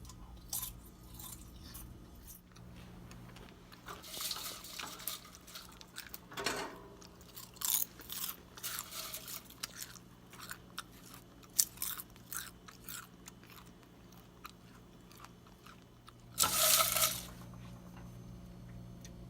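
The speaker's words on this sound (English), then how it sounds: "These can potentially take the place of popcorn or potato chips. It gives you that nice crunch." Homemade baked kale chips being eaten, with repeated crisp crunches and bites spread over the whole stretch and a louder burst near the end, close to the microphone, with no talking.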